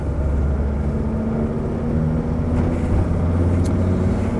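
A Mercedes Sprinter 312D long-wheelbase diesel van engine runs steadily with a low, continuous rumble and a few faint higher clicks, heard close and alone without any talking.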